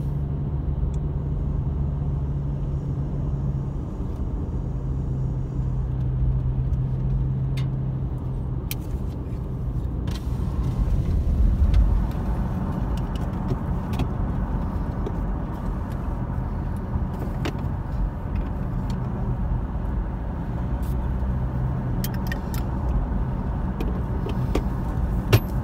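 A car drives along a partly icy mountain highway in 25-degree weather, giving a steady, close interior road rumble and engine drone that holds at a constant level throughout, with no talk.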